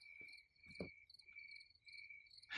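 Crickets chirp in steady, rapid pulses, a high repetitive trill in a quiet outdoor setting, with a few soft thumps underneath.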